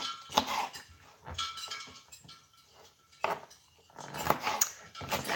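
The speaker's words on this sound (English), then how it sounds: "we're just cutting this little sweet pepper up into little dices" A knife dices a small sweet pepper on a board in quick bursts of close, crisp chopping taps, separated by short pauses.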